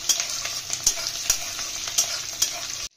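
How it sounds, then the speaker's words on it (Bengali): Garlic and prawns sizzle steadily in a hot pan while a utensil stirs and scrapes in regular strokes, close and loud, with no voices, until the sound cuts off abruptly at the end. "রসুন আর চিংড়ি মাছটা আগে একটু ভাজা ভাজা করে নেব।"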